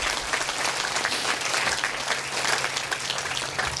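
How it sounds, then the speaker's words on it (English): An audience at an outdoor Hurricane Ian remembrance event in a bayside park claps steadily throughout, a dense, even wash of applause with no talk. "I would really, really appreciate you giving the Florida Department of Transportation, Highway Safety Motor Vehicles a round of applause for that."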